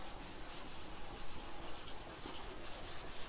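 Dry sanding with 320 grit sandpaper on the body of a Ford Bronco being prepped for paint, a continuous moderate rasping scrub with steady back-and-forth strokes, close by and alone.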